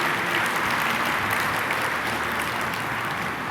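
Sustained applause from a large conference audience at a POWER-GEN International keynote session, honoring the overall projects of the year; dense, steady clapping fills the whole stretch without speech.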